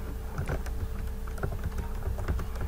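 Quick, uneven clatter of keys on a computer keyboard as text is entered into an Excel table, close and clear with short pauses between bursts, no talking.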